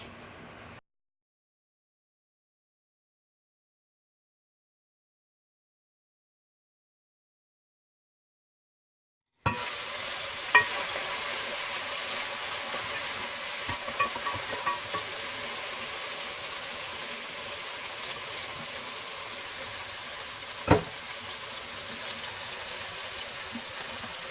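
Eggplant pieces coated in oil fry in a covered pan, producing a steady close sizzle that begins abruptly after a silent stretch, with a couple of sharp clicks along the way.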